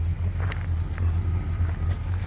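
A Jeep Wagoneer Limited engine runs at a steady low idle as a drive begins, a close, constant deep rumble with faint clicks and interior rustling.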